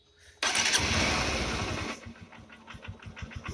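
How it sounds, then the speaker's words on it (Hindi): A Honda Shine SP 2019 motorcycle with a freshly adjusted carburetor idle screw starts with a sudden loud roar, then drops to an uneven, pulsing idle putter nearby. "ठीक है अब स्टार्ट करते हैं बाइक को"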